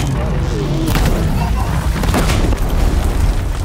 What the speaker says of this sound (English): I think it exploded